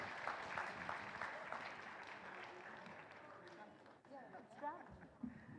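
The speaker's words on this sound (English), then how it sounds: "Please everyone give a round of applause for our distinguished speakers." Applause from the audience at the Fourth ICoSPACS 2025 conference for its speakers, a soft, distant patter of clapping that fades partway through, with faint voices mixed in.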